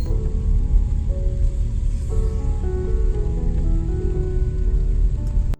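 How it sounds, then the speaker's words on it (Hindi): Steady rain falls in Ziro valley, Arunachal Pradesh, a constant dense wash of drops on surfaces that stays loud and even throughout, with faint tonal hum beneath and no voices. "अभी तक बारिश हो रहा है"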